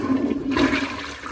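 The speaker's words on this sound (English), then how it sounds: "Somebody forgot to flush the toilet." A toilet installed on top of a Trex deck in an outdoor bathroom flushes with a steady rushing gush of water, close and fairly loud, lasting throughout.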